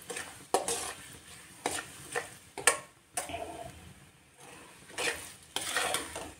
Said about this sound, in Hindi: थोड़ी देर इसकी फ्राई करूँगी, मसाले को अच्छे से फ्राई हो जाए।